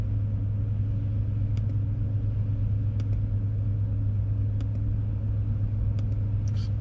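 Inside an Audi Q7 with the turbocharged engine running, a steady low rumble and drone carries on at an even level, with a few faint clicks over it and no voices.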